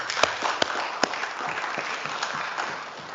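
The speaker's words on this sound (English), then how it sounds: "I would like us to give a round of applause to the officials, executive team" A round of applause fills a parliament chamber, many hands clapping in a dense wash with a few sharp louder claps standing out, tapering slightly toward the end.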